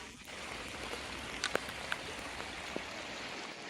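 Rain falls steadily at an irrigation canal as a soft, continuous hiss of drops, with a few faint splashes and ticks standing out briefly.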